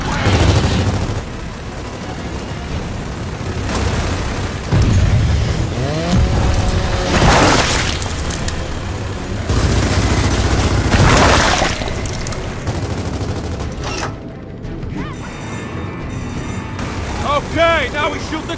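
Rapid bursts of video-game gunfire and booms fired at a crystallized boss's core during the Swarmak, the Crystallized Crusher fight, loud and continuous, mixed with game music and effects while a voice talks over it.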